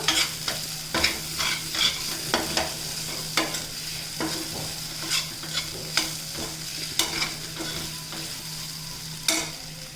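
Prawns fry and are stirred in a pan with garam masala and curry leaves, giving a steady close sizzle broken by repeated scraping stirs at an irregular rhythm, with no voices.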